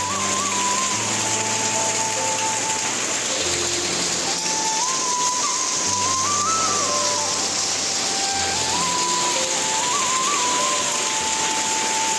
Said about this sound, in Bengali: এরপর বিকেলে আমি বাড়ি আসার পরেই শুরু হয়ে গেল ঝড়ের সাথে শিলাবৃষ্টি।